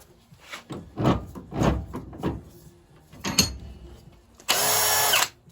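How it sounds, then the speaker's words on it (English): A cordless drill whirs in one steady burst lasting under a second while restoring the piston and conrod of a 1920 Lister Q Type engine, preceded by a series of clunks and knocks from handling parts. "Just change my drill battery."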